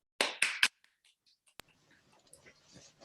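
A few sharp claps over a Zoom call during an online district contest, three quick loud ones close to the microphone, then a single snap and faint scattered clapping and murmurs from remote participants.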